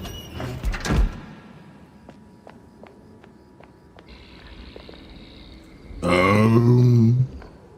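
A door in a video game is unlocked and opened: a click and rattle at the start, a few soft knocks and footsteps, then a sustained creaking swing near the end, close and moderately loud.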